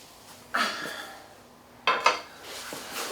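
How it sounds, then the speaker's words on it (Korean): Metal cooking pots clank and scrape as they are handled in a kitchen while making jjamppong noodle soup, a few sharp knocks and clinks spaced apart against a quiet background. "이제 얘를 빼고 다시 새로운 냄비를 가져오도록 할게요"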